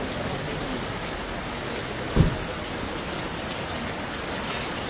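Steady unseasonal rain in a rural area of Halvad, a dense even hiss of drops on surfaces lasting throughout, with one brief low thump near the middle.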